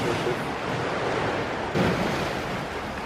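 Surf rolling onto a beach on the Cinque Terre coast, a steady broadband wash with a slight swell in the middle, heard near and continuous with some wind over the microphone.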